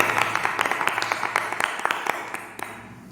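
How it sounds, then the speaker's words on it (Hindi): A church congregation at a prayer service claps in an even, rhythmic beat, the repeated claps sounding loud and close before they taper off near the end. "आज हम गीत के बाद परमेश्वर के जोरदार तालियों से स्वागत करते हैं"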